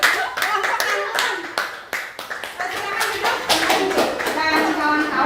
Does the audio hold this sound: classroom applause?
yes